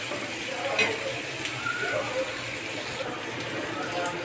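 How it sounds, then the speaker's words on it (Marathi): Onion sautéing in a pan for chicken masala, a steady soft sizzle with faint stirring scrapes, moderately close and continuous. "कांदा परतवून घेतला."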